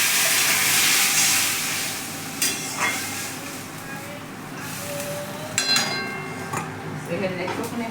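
Water poured into a pan of frying ginger and chilli bursts into a loud steamy hiss that fades, followed by scattered clinks and sizzling, close by.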